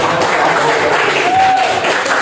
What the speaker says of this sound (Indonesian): tepuk tangan dulu untuk jawabannya